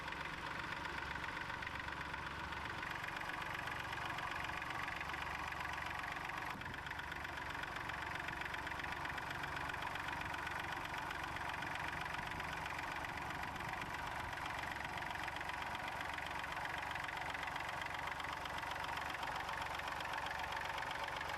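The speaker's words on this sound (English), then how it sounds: "Dawn again ploughing with one of the four Dexter tractors on the field." Dexter tractor engine ploughing a field, a faint, steady mid-pitched diesel drone with a slight knocking texture that runs evenly throughout, heard from a distance without speech.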